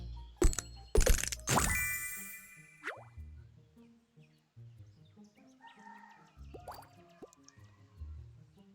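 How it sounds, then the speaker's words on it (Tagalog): Egg opening in the game Pet Simulator 99: a series of bright plopping and dripping pops and chimes with sparkly tones, spaced out over several seconds at moderate volume. "Try natin mag-open ng isang egg"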